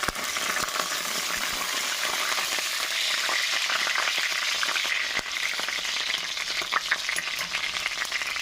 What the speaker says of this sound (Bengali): এবার 2টো তেজপাতা দিয়ে দেবো।